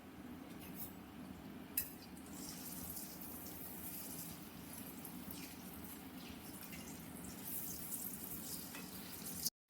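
Palm fruit fritters (taler bora) frying in hot oil, a steady dense sizzle with soft crackles and occasional light stirring clinks, continuous and fairly close, no talking.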